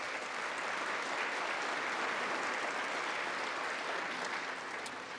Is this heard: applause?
yes